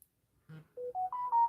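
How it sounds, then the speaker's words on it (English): A mobile phone rings with a short rising electronic melody of clean tones, brief and moderately quiet, with no talking over it. "Sorry, that was my phone."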